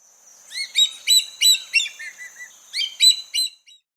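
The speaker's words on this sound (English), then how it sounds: "hawk." A hawk calls: a series of about nine clear, high, loud notes in two rhythmic bursts with a short pause between them, alone against silence.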